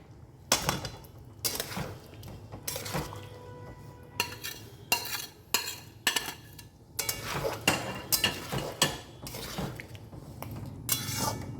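A spoon stirs and scrapes egg curry sautéing in a pan, giving repeated irregular metallic clacks and knocks against the pan, close and fairly loud, with no speech.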